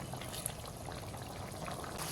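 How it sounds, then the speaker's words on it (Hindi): Chickpeas boil in water in a pot for a Lahori chana dish, giving a steady bubbling simmer with small pops, close and continuous without talk. "चनों में बहुत अच्छा एक बॉयल आना शुरू हो गया है।"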